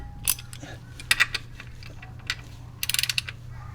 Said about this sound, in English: now we're just gonna tighten up our drain plug